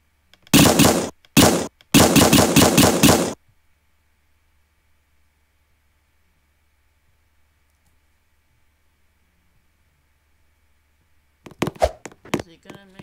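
Rapid bursts of paintball gun fire in a Roblox paintball match, three quick volleys of clattering shots up front, then a long silence before a short busy burst of game noise near the end.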